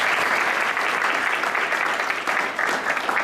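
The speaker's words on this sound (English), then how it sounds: "let's give her a big round of applause" Evening audience at a business school innovation contest giving a big round of applause, dense sustained clapping from many hands, loud and even, easing slightly near the end.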